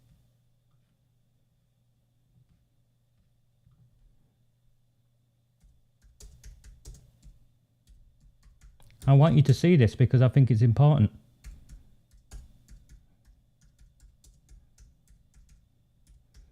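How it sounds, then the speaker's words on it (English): Someone types on a computer keyboard with one finger, producing sparse, irregular soft taps at moderate distance. A voice speaks loudly for a couple of seconds in the middle, and a faint steady hum sits underneath. "that's my one finger typing"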